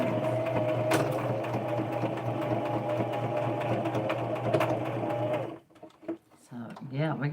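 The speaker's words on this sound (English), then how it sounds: "we got the sewing machine out. We are sewing." Close, steady mechanical whirring and rapid stitching rhythm of a home sewing machine stitching a homemade doll, running continuously for about five seconds before stopping, then a voice talks.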